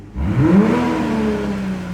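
Tuned 2020 Toyota Supra engine revving, a close, loud rising growl that sweeps upward then holds at a steady high drone, with no talking over it.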